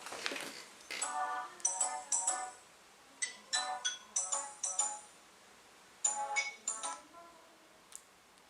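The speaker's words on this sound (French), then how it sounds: "Désolée, c'était mon téléphone." A mobile phone rings indoors, with repeated bursts of a bright electronic ringtone melody separated by short pauses, fairly close and clear, with no talking over it.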